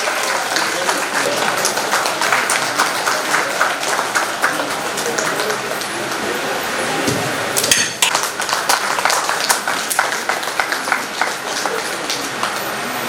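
Dense, sustained clapping from a women's association audience at a Vasavi Vanitha event in Amaravathi, loud and steady throughout with a brief burst of louder claps near the middle and some voices mixed in.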